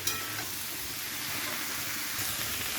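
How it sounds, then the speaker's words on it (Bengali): Mixed winter vegetables fry in a pan for a prawn curry, giving a steady, close sizzle with faint stirring scrapes and no talk. "সমস্ত সবজি কিন্তু খুব ভালো করে ভেজে নেওয়া হয়ে গেছে"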